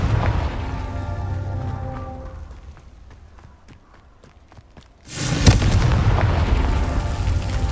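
A Confringo fire-blast spell goes off in Hogwarts Legacy: a loud, sudden booming burst erupts after a quieter stretch and then rolls on as a sustained roar, layered over game music and ambience.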